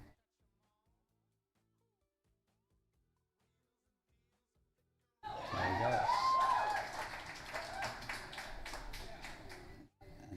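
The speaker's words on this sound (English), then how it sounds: "Crowd's going nuts." Arena crowd at a junior pool championship, the Battle of the Junior Champions, erupting into loud sustained cheering and applause after silence, with rhythmic clapping continuing through to the end.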